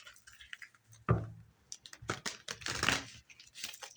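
Tarot cards riffle and flutter in a quick shuffle, followed by a few soft slaps and papery taps.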